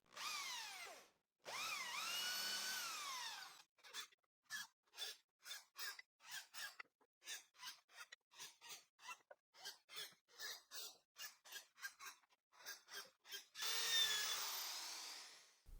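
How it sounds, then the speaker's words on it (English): A hand-held power drill with a 3 mm bit drills into wood, whining in two long runs, then stuttering through many short rapid bursts, close and loud, before a final sustained spin. "The drillings will be done using the hand drill and this 3 millimeter drill bit."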